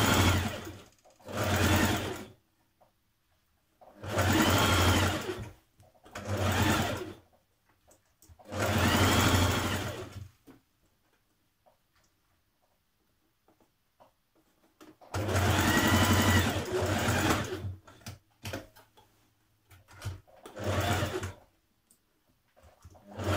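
A sewing machine stitches the side seams of a Simplicity 8546 shirt dress in loud, close whirring bursts, six separate runs of a few seconds each with quiet pauses between them.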